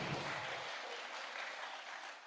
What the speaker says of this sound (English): another round of applause for the outstanding contribution to our course